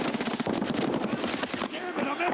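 9mm gunfire with 20-round magazines in a video game: rapid repeated bursts crackle close and loud across most of the moment, with a brief break near the end.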